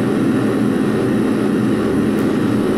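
A tape loop noise music piece from 1969: a dense, loud, unchanging wash of roaring hiss and rumble, sustained without pause or speech.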